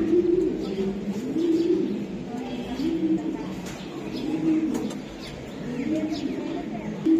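Racing high-flyer pigeons coo softly and repeatedly while being held and handed over at a pigeon sale, the low cooing steady throughout with a faint murmur of people talking nearby.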